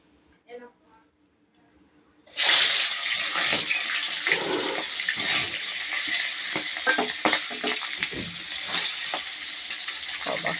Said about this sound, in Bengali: তেলটা গরম হয়ে গেছে মাছটা দিয়ে দিই মাছের মুড়োগুলো আগে দিয়ে দিই